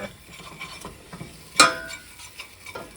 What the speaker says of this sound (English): I'm just going to go ahead and give those a little bit of a stir